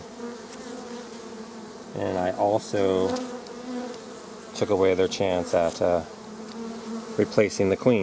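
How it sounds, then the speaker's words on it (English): A wasp buzzes inside a beehive, a steady, low droning hum running continuously beneath a person talking close by. "oh, there's a wasp in here"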